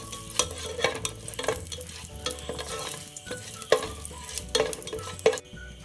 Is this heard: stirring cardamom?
yes